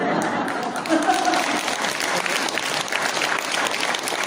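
Steady applause from a congregation at a Buddhist temple in Seoul during a dharma talk, dense continuous clapping filling the hall at even loudness throughout.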